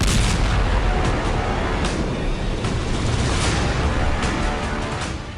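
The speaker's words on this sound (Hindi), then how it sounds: "रूस ने खार्किव के लिपित्स्की क्षेत्र पर धमाका किया।" A Russian glide bomb strike in the Kharkiv region of Ukraine produces a loud, continuous roaring rumble with heavy low-end boom, sharp crackling bursts within it, and a slow fade toward the end, with no talking.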